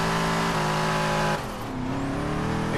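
A Ford rally car in Forza Horizon 3 roars on a rallycross circuit, its engine held at a loud, steady high drone before the pitch drops as the revs fall, then climbs slightly again.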